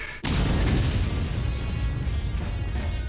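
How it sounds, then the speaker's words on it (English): A heavy video game explosion erupts suddenly and keeps booming and rumbling, with a couple of smaller blasts near the end. "Explosions!"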